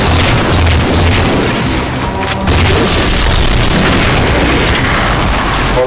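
A grenade blast in the Halo 4 video game, a loud, dense booming roar of explosive rumble filling the whole stretch with a brief dip partway through.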